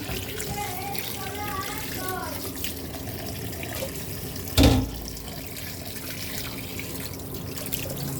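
Raw chicken pieces are rinsed under a running kitchen tap, a continuous splashing water stream with a sudden louder knock midway; a voice talks briefly over it.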